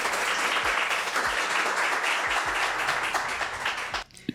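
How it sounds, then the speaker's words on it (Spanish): Applause from a studio audience welcoming a guest onto a Spanish-language investing talk show, a dense sustained wash of clapping that cuts off sharply near the end. "Démosle un aplauso, por favor, a la gran Juliana Matiz"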